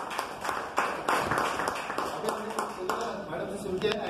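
A seminar audience breaks into applause for a participant, a fairly close run of brisk claps layered under ongoing talk.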